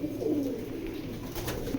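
Pigeons at a Bangladeshi breeding loft coo softly and steadily in low, throaty rolling notes, close by, over a constant background hum, with no talking.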